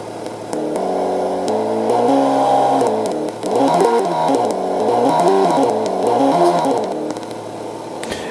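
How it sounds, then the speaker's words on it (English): ESS One Plus 2017 simulated engine sound module rising as the throttle opens, a layered synthetic motor tone climbing and falling in pitch through repeated rev sweeps, steady and fairly loud with no talking. "There is just 5 sounds that is turning on when you increase the throttle."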